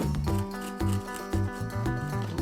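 Scissors cutting a teardrop shape out of paper, several crisp snips in a loose repeating rhythm, close and moderately loud.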